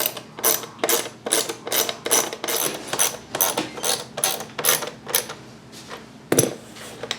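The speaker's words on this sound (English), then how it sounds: "now we just got to put these screws back in all the way around" Screws are driven back into a 2008 Chevy Equinox instrument cluster, heard as a close, rapid series of sharp ratcheting clicks in repeated bursts, about a dozen in a row, ending in a louder clack.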